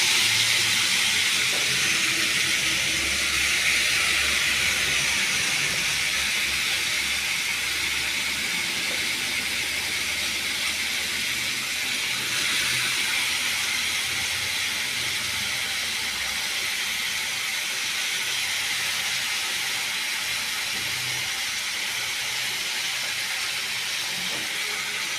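Bottle gourd pieces tipped into a hot pan give off a steady, loud, broadband hiss that holds at an even level for about twenty-five seconds, with no voices over it.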